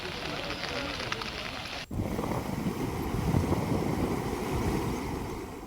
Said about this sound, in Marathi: तर इकडे वर्ध्याच्या देवळी तालुक्यात मुसळधार पाऊस बरसतोय।